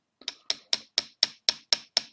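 Steel chisel struck by a hand hammer while engraving metal in the traditional way, eight crisp metallic taps at a regular quick pace, close up and clear, with no voices.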